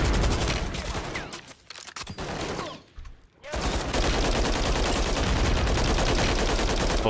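Sustained automatic fire from a mounted turret machine gun in Modern Warfare 3, a dense rattling barrage that fills most of the stretch, briefly dropping out near the middle before resuming loud and continuous to the end.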